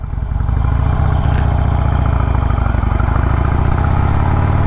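A 2020 Harley-Davidson Roadster idling close by. The engine's loud, lumpy low rumble starts up and then settles into a steady, rapid rhythmic pulse, with no speech.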